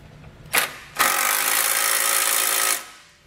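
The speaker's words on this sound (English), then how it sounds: "We'll use a 15mm socket for the larger bolts and a 13mm socket for the smaller bolts." A power socket tool, fitted with 15mm and 13mm sockets, drives base plate bolts on a 2020 Buick; a short burst, a brief pause, then a sustained whirring run of nearly two seconds before spinning down, close and loud.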